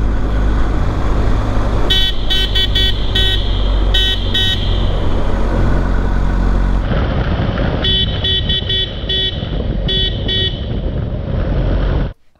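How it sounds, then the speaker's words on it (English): Several short beeps from the standard horn of a BMW R1250GS motorcycle sound in quick bursts over loud, steady road and engine noise, followed by another series of beeps in an echoing space. "Let's see what the standard horn sounds like."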